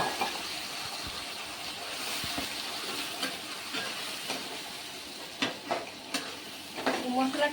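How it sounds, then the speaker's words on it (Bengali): Spice paste of onion, garlic, ginger and green and red chili sautéing in a pan for chicken biryani: a steady sizzling hiss with occasional stirring scrapes and clinks, louder taps near the end, no talking. "মশলাটা আমি কষিয়ে নিচ্ছি"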